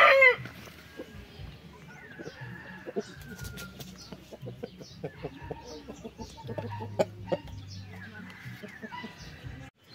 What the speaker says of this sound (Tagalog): yung ating Buff Orpington standard line or show type, galing kay Prax